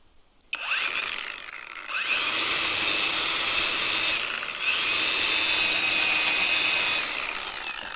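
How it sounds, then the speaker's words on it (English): A power drill with a sanding disc whirs loudly and continuously against wood, a steady high grinding hiss lasting several seconds with slight shifts in pitch. "This has got a sanding disc on it."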